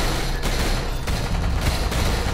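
Pistol shots in a Roblox zombie game, several sharp reports spaced roughly half a second apart over a loud, busy game background.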